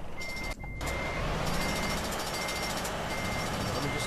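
Reversing beeps from a tuned-up DAF truck in Euro Truck Simulator 2, a steady repeating high tone over continuous engine rumble, loud and close, with a brief dropout near the start.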